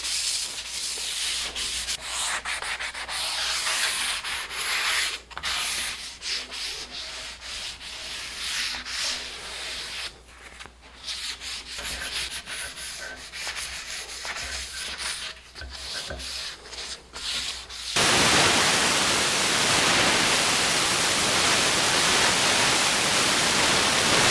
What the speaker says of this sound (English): I'm going to take a little sanding sponge, and I'm just going to rough up that finish